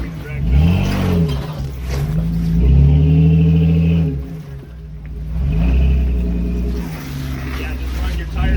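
An off-road vehicle grinds over rocks on a ridge near waterfalls in Kingman, Arizona, its engine rising and falling in loud revving surges with bumps and scrapes, while people talk nearby.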